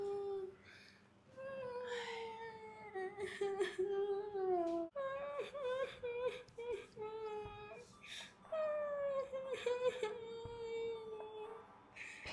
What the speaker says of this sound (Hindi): फिर रोने की आवाजें आ रही हैं।